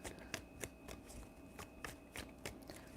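Tarot cards are shuffled by hand in a quiet room, a soft series of quick riffling flicks and taps repeating at an irregular pace.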